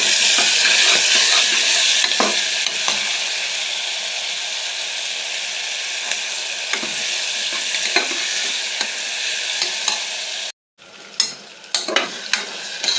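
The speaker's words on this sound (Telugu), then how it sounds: "ఇవి కాస్తంటే స్లో ఫ్లేమ్ మీద మెల్లిగా మగ్గనిద్దాం ఇది బాగా కలుపుకున్నానండి" Mushroom pulao masala with vegetables stirred and frying slowly in a pan over a low flame, a steady close sizzle with scraping stir strokes throughout, briefly cut off near the end before resuming.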